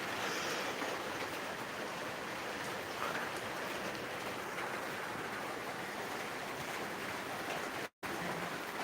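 Torrential rain pours down steadily in Niamatpur, Naogaon, a dense, unbroken hiss of falling water that stays loud and even from start to finish, broken only by a split-second dropout near the end.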